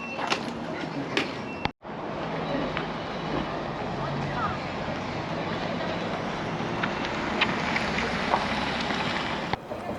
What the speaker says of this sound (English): Here, a train.